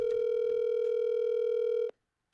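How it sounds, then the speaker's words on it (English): A telephone line tone during an outgoing call, one steady electronic tone lasting nearly two seconds and then cutting off abruptly into silence, clear and close with no talking. "Normally, he'll let it ring"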